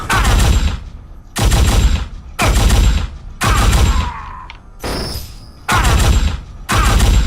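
Assault rifle in Unreal Tournament pre-alpha firing its alternate mode: loud, close short bursts of rapid gunfire repeated in a steady rhythm with brief gaps between them.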